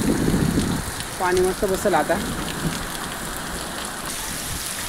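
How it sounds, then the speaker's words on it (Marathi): Heavy summer rain falling steadily on a farm, a constant close hiss of drops on surfaces, with someone speaking briefly over it. "लय जोरदार पाऊस आला आहे."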